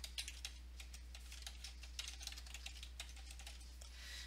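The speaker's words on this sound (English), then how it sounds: "Type in your password," Quick, light clicks of a computer keyboard as a password is typed, an irregular close patter of keystrokes over a low steady electrical hum.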